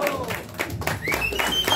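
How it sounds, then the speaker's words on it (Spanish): Audience applauds after a youth mariachi song at a Mother's Day performance, a short burst of clapping mixed with crowd noise, whistles and voices. "Un bonito aplauso."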